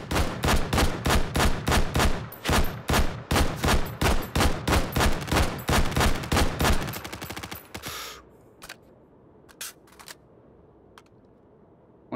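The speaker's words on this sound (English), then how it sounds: "I'm gonna get shot by these guys." Loud, rapid automatic fire in the VR shooter Hot Dogs, Horseshoes & Hand Grenades rattles on in fast bursts, then gives way to a few scattered, fainter single shots over a quiet background.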